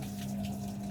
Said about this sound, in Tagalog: lumabas na yung tubig